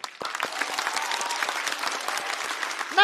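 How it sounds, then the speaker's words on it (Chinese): Audience applause at a live stand-up comedy show, a steady dense wash of clapping from a large crowd that carries on evenly for about three seconds. "让我们把掌声再次送给他。"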